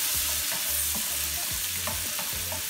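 Vegetables softening in butter in a pan over low heat make a constant close sizzle, with a faint repeating low rumble beneath it throughout.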